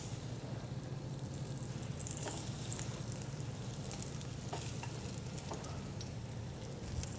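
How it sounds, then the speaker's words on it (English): Plantain and bread fry in a pan of oil, giving a soft, even crackling sizzle that runs steadily throughout with a few brighter pops and no speech. "We're actually going to fry the plantain, the bread, and then the raisins in our oil."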